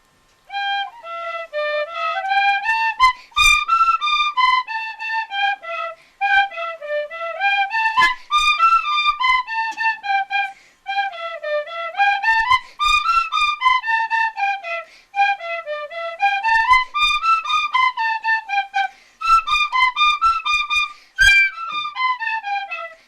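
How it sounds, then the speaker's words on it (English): Tin whistles play a lively polka in close, bright unison, with rising and falling runs and steady bouncing phrasing across the whole passage, plus a few sharp accent notes along the way. "they have the tin whistles, and they're going to play for us a beautiful polka"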